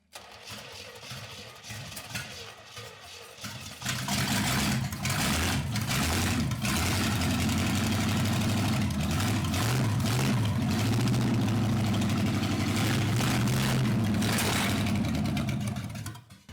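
A Chevrolet small-block 350 V8 that sat unused for 15 years runs after an overhaul. It settles into a steady, loud idle after a quieter start and stops near the end.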